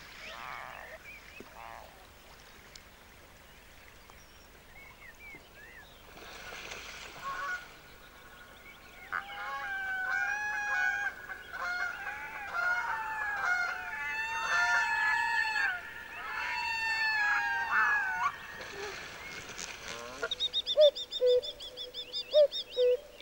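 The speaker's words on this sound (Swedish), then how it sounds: "I den lilla kärnen vid skogsbrynet har smålommarna samlats." Red-throated loons call from a small forest-edge pond in spring with repeated harsh, goose-like honks and croaking wails, rising into a loud chorus before fading.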